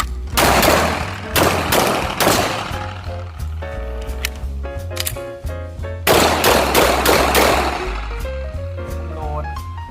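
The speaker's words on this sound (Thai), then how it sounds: "ยิงด้วยก็อ โอเค พร้อม ปืน" Glock 26 pistol shots at a shooting range ring out as loud, sharp reports in quick succession, with a break in the middle and more shots after it, while people talk in between.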